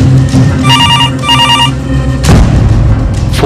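A telephone rings in two short trilling bursts, loud and close, followed by a dull thump.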